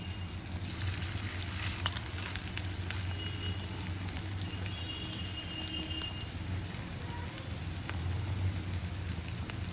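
Chicken frying in hot oil in a pan over medium heat, a steady dense crackling sizzle running continuously and evenly throughout, close and moderately loud with no talking.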